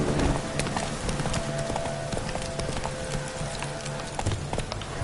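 Roach, the horse in The Witcher 3, gallops with quick, rhythmic hoofbeats over a constant rain-like hiss, close and steady throughout.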